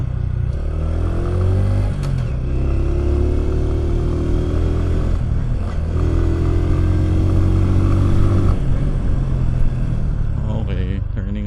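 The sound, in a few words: Bristol Cub Pro motorcycle riding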